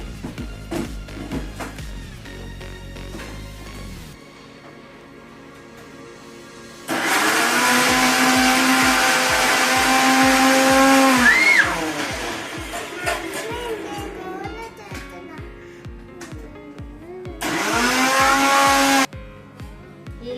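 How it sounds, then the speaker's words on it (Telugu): Mixer grinder blitzing onions, curry leaves, chillies and ginger, a loud harsh whirring in two bursts, the longer one about four seconds and a shorter one later, with quieter kitchen sounds in between. "మిక్సీ పట్టుకున్నామండి ఒకసారి."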